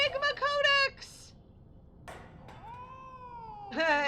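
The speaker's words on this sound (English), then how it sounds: "Cat." Cat in the video game Final Fantasy 14, meowing loudly and repeatedly close up, with harmonic wails and a drawn-out caterwaul separated by short pauses.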